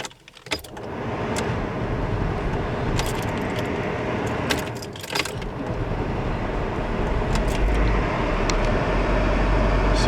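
A BMW E34 with its heater fan stuck on high starts up after keys jangle and clicks, then the engine settles into a steady idle under a constant rushing fan whoosh that grows slightly louder.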